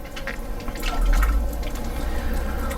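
Acid water from a Chanson Miracle M.A.X. water ionizer runs into containers, a steady close gush and trickle of liquid that swells slightly midway and keeps flowing without a break.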